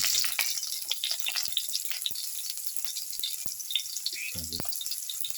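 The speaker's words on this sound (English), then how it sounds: "Once the mustard seeds start popping," Mustard seeds pop and crackle in hot oil for a beetroot raita, with a low sizzle beneath sharp, scattered pops close by.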